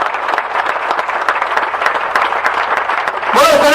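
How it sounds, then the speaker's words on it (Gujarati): At a Gujarati community special assembly, a dense round of enthusiastic audience clapping rings out for Chandrakantbhai's team, and a voice cuts in at the very end. "આખી જે ટીમ છે એના માટે જબરદસ્ત તાળીઓ"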